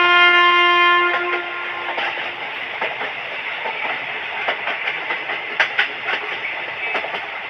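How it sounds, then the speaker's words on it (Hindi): A train pulls into a station. A steady horn blast opens, and then the wagons roll by in a continuous rumble with rhythmic clattering clicks from the wheels. "इन लोगों की ट्रेन आ जाती है।"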